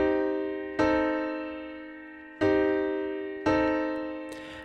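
Three sustained chords in the Dorian scale ring out one after another, each struck cleanly and slowly fading, with no talking.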